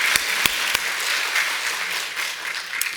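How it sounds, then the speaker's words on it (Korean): Sustained applause from a crowd, dense and even, with a few sharper claps standing out at the start. "박수."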